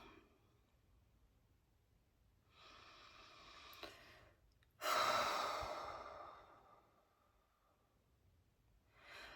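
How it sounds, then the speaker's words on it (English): A person breathes deeply and slowly, two long audible exhalations close to the microphone separated by a quiet pause, then a third breath begins at the end. "take some deep breaths"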